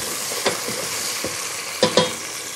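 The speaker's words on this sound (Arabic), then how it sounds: "بس أتأكد إنه شوي الروبيان تشوح تشويحة خفيفة عشان بدي إياه يأخذ طعم البصل" Shrimp and onion sautéing in a pan, a steady close sizzle broken by a few sharp scraping stirs of a utensil.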